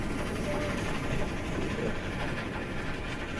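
A train rolls along rails in the desert, producing a continuous heavy rumble with faint rhythmic clicking and wheel clatter at steady volume, with no voices over it.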